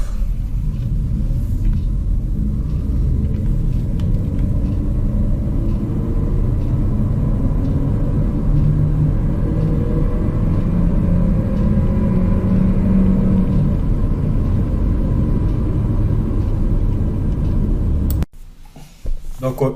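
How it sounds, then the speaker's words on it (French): A 2024 Renault Arkana Esprit Alpine with an automatic gearbox accelerates, heard as a loud, steady low engine and road rumble that builds for about eighteen seconds before cutting off abruptly. "On va se voir une petite accélération."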